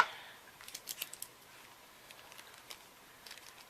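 Scissors cutting open the plastic package of a card-making kit: a few quick close snips and crinkles near the start, then sparse faint rustling.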